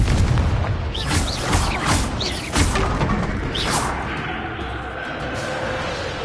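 The Confringo fire spell goes off repeatedly in Hogwarts Legacy, giving several booming, crackling blasts in quick succession against a dense battle din.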